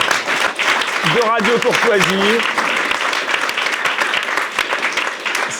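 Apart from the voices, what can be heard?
studio audience applauding Mike Borowski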